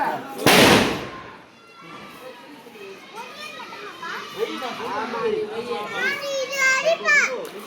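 A single loud firecracker bang bursts near the start during Diwali celebrations at home, followed by children chattering and shouting close by.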